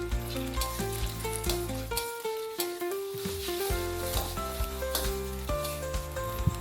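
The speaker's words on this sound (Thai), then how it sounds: "ผัดไข่เตรียมไว้ก่อนเลยครับ" Eggs sizzle and hiss as they are stir-fried in a hot wok beneath a layer of background music, the frying steady and close.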